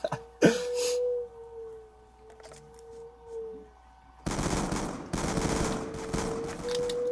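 Shotgun blasts in the Black Ops 2 video game, a sharp shot near the start, then a louder dense burst of rapid fire late in the clip over quiet game ambience.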